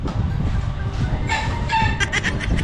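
Chickens clucking and a rooster crowing at a rural Vietnamese yard, steady farm noise with a burst of sharper calls toward the end, no speech.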